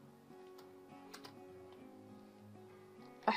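Soft, scattered keystrokes on a computer keyboard sound close by under a steady background hum while HTML is written, and a short burst of louder clicks comes at the end.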